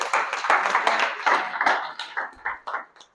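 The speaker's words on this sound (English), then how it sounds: "So give some round of applause for both persons." A burst of clapping from a group, dense at first and thinning into scattered claps toward the end.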